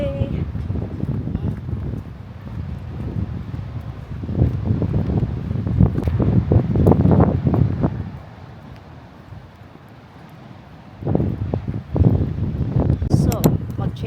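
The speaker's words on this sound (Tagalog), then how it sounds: "Mahangin!" Strong gusts buffet the microphone on the Eastbourne seafront, a loud low roar that swells and drops away for a moment before surging back.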